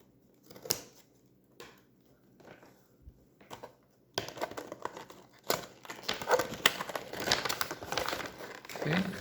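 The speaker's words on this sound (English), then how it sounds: "snip off the tape" Close-up crinkling and crumpling of plastic packaging around a MoFangJiaoShi magic cube as tape is snipped off, starting with sparse rustles and scissor snips, then turning into dense, continuous crackling handling noise.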